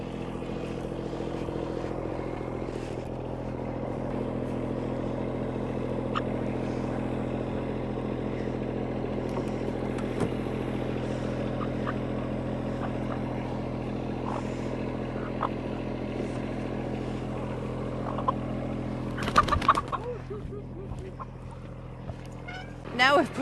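A tractor engine drones steadily and fairly close as it pulls a trailer of chickens up a steep hill on a farm, with a brief louder clatter near the end and no talking.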